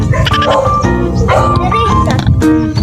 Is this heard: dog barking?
yes